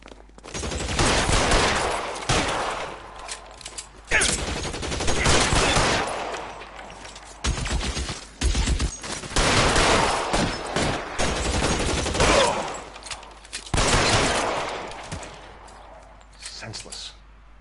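A gunfight in the crime game L.A. Noire, with repeated loud volleys of rapid gunshots and short pauses between bursts, filling the whole stretch.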